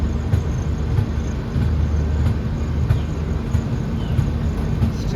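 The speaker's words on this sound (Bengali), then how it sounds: "আমাদের ট্রেন ধীরে ধীরে ফারাক্কা জাংশন স্কিপ করছে" Garib Rath Express rolls slowly through Farakka junction before dawn, a steady low rumble of wheels and carriages with faint periodic clicks of rail joints, continuous and fairly close.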